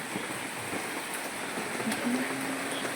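Steady rain falls outdoors as a continuous broadband hiss with scattered drop impacts, fairly close and even in level, and no talk over it.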